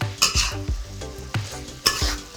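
Beef stir-fried with hand-pounded southern Thai curry paste in a pan: a spatula scrapes and stirs in repeated strokes about every half second over a steady close sizzle, with no talking.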